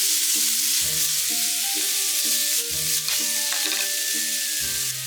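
Leek and ginger stir-fry in a hot pan while bento dishes are cooked, giving a loud, continuous sizzle under soft background music and no talk.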